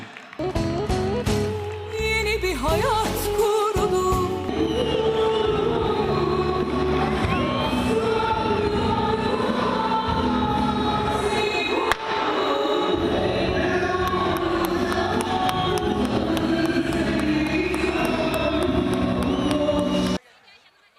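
Elazığspor football fans at a championship celebration cheering and applauding, a loud, sustained roar of crowd noise with music-like tones and occasional bangs, running continuously for about twenty seconds before cutting off.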